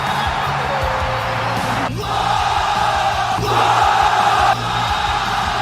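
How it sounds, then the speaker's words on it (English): An arena full of WWE fans sings along to Cody's entrance theme, a loud sustained crowd roar that swells and peaks partway through over the music. "WWE fans immediately joined in singing the lyrics"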